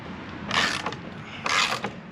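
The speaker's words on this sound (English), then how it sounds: "so got me a ratchet and a socket" A ratchet and socket drive bolts into hard lumber during a barn stall repair, heard as two short bursts of ratcheting clicks about a second apart, moderately quiet, with no talk.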